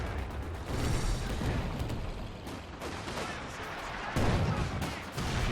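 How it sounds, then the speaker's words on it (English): Vickers machine gun fire in a Company of Heroes 2 battle, a steady chattering of automatic bursts mixed with other gunfire and distant artillery, dense and continuous throughout. "Vickers are still firing"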